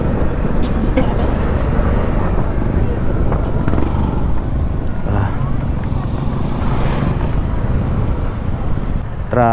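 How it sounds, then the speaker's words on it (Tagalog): Road traffic rushes by in a steady, loud wash of engine and tire noise, heard from a moving motorcycle with wind roar and occasional passing vehicles. "Traffic."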